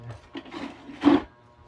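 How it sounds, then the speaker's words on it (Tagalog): A few short rasping strokes of a hacksaw on metal, the last one louder and closer, with pauses between. "Ito hiningi ko itong lagarin bakal."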